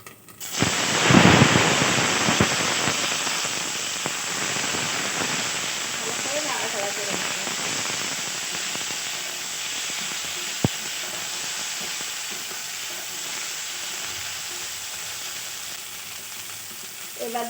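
Potatoes tipped into hot ghee for a Bengali aloo-chilli dish: a sudden loud burst of sizzling as they hit the pan, easing into a steady hissing fry that carries on throughout.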